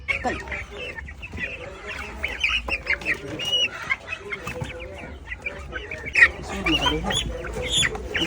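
Native chickens in a rural province yard cluck and squawk in a busy, overlapping chorus, with sharp calls breaking out over a steady background of bird chatter at close range.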